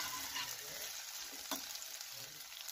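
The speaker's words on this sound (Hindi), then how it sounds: "इसके अंदर हम प्याज ऐड करेंगे और इसको चलाएंगे।" Onions frying in boiling oil for a fish curry base, giving a steady, fairly quiet sizzle with a brief clatter of stirring near the middle and no talk.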